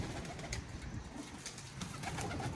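Pigeons cooing and fluttering close by, a steady soft murmur of several birds with no talking.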